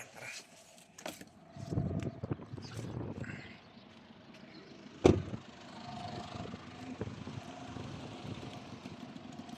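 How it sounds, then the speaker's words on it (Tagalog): Several old four-wheeler ATV motorcycles idle and rumble nearby at low level, with a sharp clank partway through and engine noise continuing steadily. "ito ngang 4 wheels na motor"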